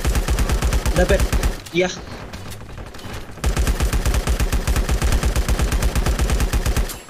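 Automatic gunfire in the LifeAfter mobile game, loud rapid evenly spaced shots in a sustained burst, a brief pause with a short spoken exchange, then another long rhythmic volley.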